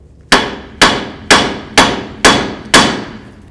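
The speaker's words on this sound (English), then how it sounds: "Just tap the knuckle." Hammer tapping the front steering knuckle of a 1984-2001 Jeep Cherokee during a ball joint job: six sharp metallic strikes at an even, unhurried pace, close and loud, each ringing briefly before the next.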